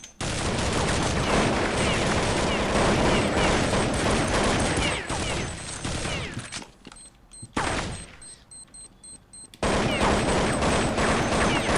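Rapid gunfire bursts from a Counter-Strike 1.6 match, loud and dense for most of the stretch, with a couple of short quieter gaps before the shooting resumes.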